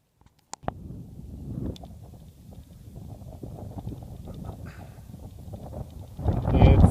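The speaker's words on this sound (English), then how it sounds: "It's kind of windy here." Steady wind rushes across the open desert of Death Valley, a continuous low buffeting roar that builds louder near the end, with faint footsteps and movement beneath it.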